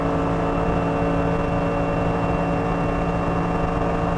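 A Mercedes-AMG GT3 race car lapping the Nordschleife, its engine a loud steady drone with layered harmonic tones, heard continuously from inside the car at constant pitch.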